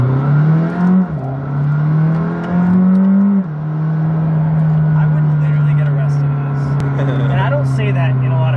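A McLaren 620R accelerates with a deep, steady engine drone that rises slightly in pitch between two quick shifts, heard from inside the car, with voices talking over the engine.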